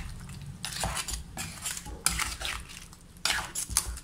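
Crab and breadfruit curry being stirred in a pot, a spoon scraping and clinking against the metal in uneven bursts, close by, with no talking.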